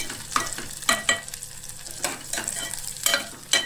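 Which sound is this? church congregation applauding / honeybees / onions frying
onions frying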